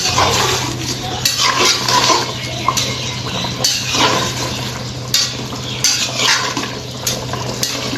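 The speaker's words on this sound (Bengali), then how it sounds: "এবার আমি ঢাকনা খুলে দেখে নেব এই যে আমার মাংস হওয়ার মধ্যে" A rice cooker lid being lifted while beef cooks inside, with clinks and rattles of metal and a steady sizzling, bubbling simmer underneath, close and fairly loud with no talk.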